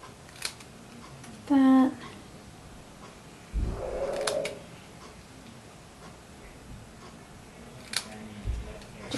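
Scissors cut the ends of a small card-stock birthday banner in a couple of brief, close snips, with a quiet room and a soft word of speech around them.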